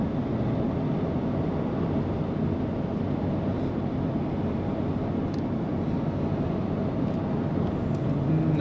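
A 1999 Chevrolet Tahoe LS two-door 4x4 cruises along a smooth road, its steady low drone of engine, tyre and road noise holding constant throughout with no talking.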